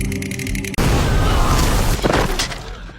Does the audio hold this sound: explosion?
yes